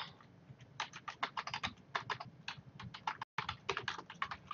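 Quick, irregular keystrokes clatter on a computer keyboard during order entry in freight estimation software, fairly close and steady, with a brief gap partway through.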